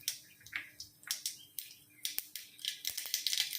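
Mustard seeds crackle and pop in hot oil in a kadai as a tempering is made for South Indian sambhar, with sharp snapping bursts repeating irregularly and growing denser toward the end.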